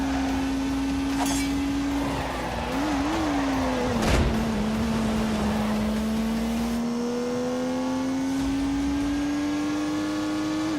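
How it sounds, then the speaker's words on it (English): Turbocharged 3-litre straight-six car engine in a driving video game, revving steadily with a strong sustained drone that rises and dips in pitch, a brief throttle blip midway, loud and continuous with no talk. "unleashed 365 rampaging horsepowers from the turbocharged 3-litre straight 6"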